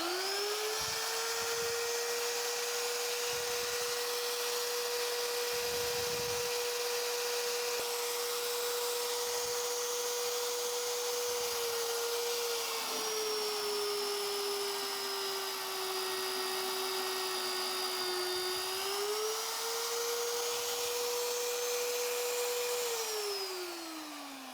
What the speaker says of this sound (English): now I'm going to turn it on and start drilling a hole.